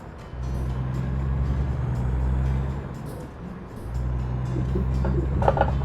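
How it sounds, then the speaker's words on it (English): Truck engine in American Truck Simulator with a John Deere load, a steady low drone that dips in the middle as the gear drops, then rumbles back up, with no talk. "So now I've got a downshift."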